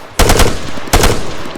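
Two short bursts of full-auto rifle fire in ARMA III, each a rapid, loud volley of a few rounds, separated by a brief pause.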